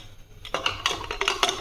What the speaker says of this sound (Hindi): और अब इसमें लगा देंगे हम कुकर का लिड।